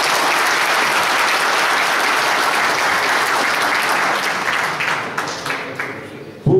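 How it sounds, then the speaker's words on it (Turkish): An audience at a professional gathering breaks into loud, sustained applause, dense clapping that holds steady and then tapers off toward the end. "Kendisini tüm meslektaşlarım önünde alkışlamanızı istiyorum lütfen."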